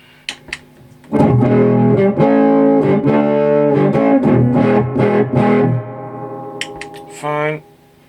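Electric guitar played through a fuzz pedal on a pedalboard, loud sustained distorted chords and riffs for several seconds, then a quieter trailing note near the end.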